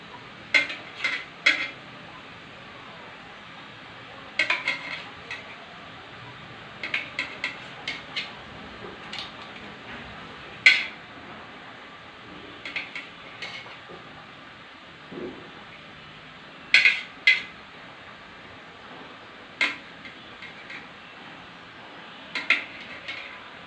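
A knife slices a boiled egg for egg chops, giving sparse, sharp clinks against the plate or board, spaced irregularly over a quiet background.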